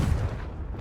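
A Confringo spell from Hogwarts Legacy goes off as a single short blast. It begins with a loud low thump and then fades quickly within a second.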